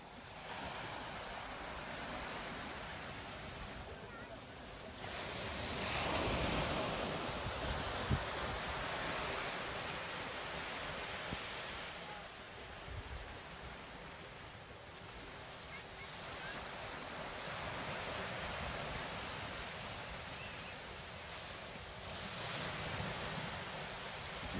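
Ocean shorebreak waves at Kua Bay beach surge and crash onto the shore in steady, rolling swells, loud and close, with a constant wash of surf and some wind noise in between.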